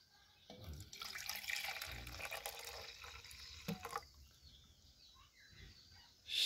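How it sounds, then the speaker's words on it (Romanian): Lukewarm water poured into a cup holding wood ash and a spoonful of hot paprika for a homemade insecticide, a steady splashing trickle for a few seconds, fairly close, then a brief clink. "Și vom pune apă călduță."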